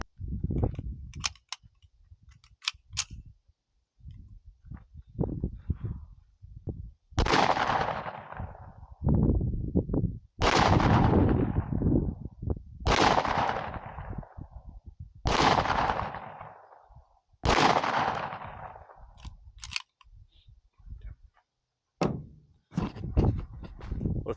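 A CZ52 pistol, factory-made in 1953 and chambered in 9mm for export, fires about eight loud shots at uneven intervals of a few seconds, each with a long echoing decay, among scattered handling clicks.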